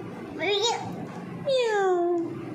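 A young child imitates a cat's meow, giving two drawn-out, sliding meows close to the microphone in a quiet room.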